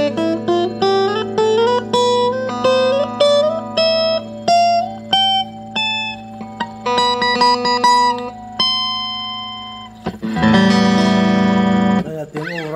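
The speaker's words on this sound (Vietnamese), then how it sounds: "Đây là tiếng override của nó." An electric guitar plays through a PlayTech Jammer Jr mini amplifier on its overdrive setting, picking a run of single notes and then a short strummed chord, with a moderately gritty tone.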